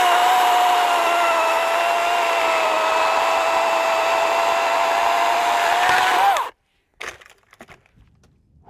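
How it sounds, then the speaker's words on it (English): A battery-powered chainsaw with a 16 inch bar runs steadily at high speed with a loud, sustained whine for about six seconds, then cuts off abruptly, leaving a few faint knocks and rustles. "You should be able to hear the power of this saw."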